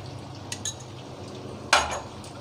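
A spoon stirring pasta with tomato ketchup in a pan, two soft clinks followed by a louder scraping clatter of metal against cookware over a quiet low hum.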